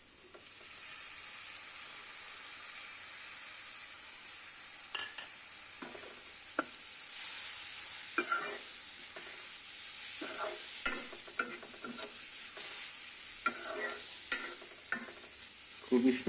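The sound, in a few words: onion and prawns being stirred and fried in a pan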